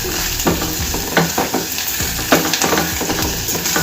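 Spices with fenugreek powder and asafoetida frying in oil for a pumpkin dappalam, stirred in the pan: a loud, close, continuous sizzle broken by repeated scraping strokes of the spoon.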